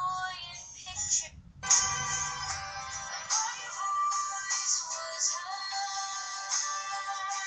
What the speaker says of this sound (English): These are my ringtones.